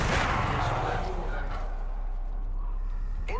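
Gunfire in the video game Apex Legends, a dense, loud burst of shots and booming impacts at the start, then a continuous rumbling battle mix under game noise.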